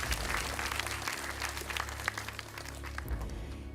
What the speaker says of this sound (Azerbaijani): Biz onu alqışlayırıq ürəkdən